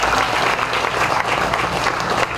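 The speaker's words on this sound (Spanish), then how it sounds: "Un fuerte aplauso para William Osuna" Crowd applause for William Osuna, a weightlifting medalist, at a torch relay launch for school games in Barahona, loud, close and continuous throughout.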